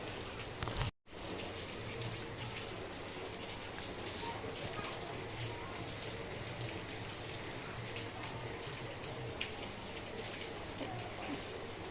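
Steady patter of light rain falling, constant and even, with a brief break near the start.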